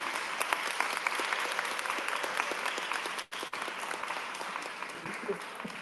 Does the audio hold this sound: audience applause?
yes